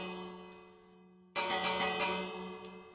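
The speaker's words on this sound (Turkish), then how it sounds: "Zili çal." Minecraft bell struck in-game, a clear metallic ring that rises suddenly midway and sustains with bright overtones, following a fainter decaying ring at the start.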